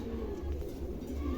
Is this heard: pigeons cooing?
yes